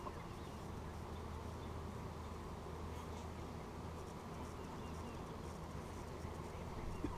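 A steady, dense buzz from many honey bees at a hive being smoked during inspection, continuous and fairly close, with no talking.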